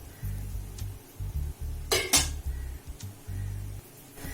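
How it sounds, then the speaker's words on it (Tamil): A lid is lifted off a pan where a vegetable uthappam is cooking, giving one short metallic clink in the middle. A low rumbling background and a faint sizzle run under it, with no talk. "இப்ப நம்ம மூடியை திறந்து பார்த்துக்கலாம்."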